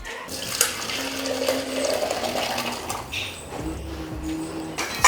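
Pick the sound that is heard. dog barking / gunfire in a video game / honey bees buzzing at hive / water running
water running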